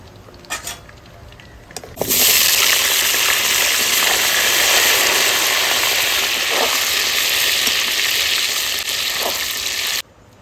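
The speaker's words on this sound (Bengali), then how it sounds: "এবার আমি আলুটা বেজে নেবো" Potatoes fry in leftover chicken oil in a pan, a loud steady hiss that surges in abruptly after quiet handling clicks and runs evenly for about eight seconds before cutting off.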